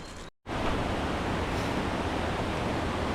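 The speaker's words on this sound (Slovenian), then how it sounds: "Prišli smo do potoka slapa Brinte." Steady broadband rush of a mountain stream flowing below the Brinta waterfall in Slovenia, loud and close, continuous after a brief cut at the start.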